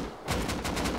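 Bursts of gunfire during a raid in the survival game Rust, starting after a brief quiet moment and then firing in rapid repeated volleys, loud and close, with no talk over it.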